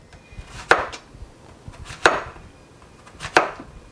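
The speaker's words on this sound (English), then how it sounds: "I'm going to go ahead and cut them up." A knife chops through yellow squash on a cutting board in three sharp, evenly spaced strokes, close and distinct with no talking.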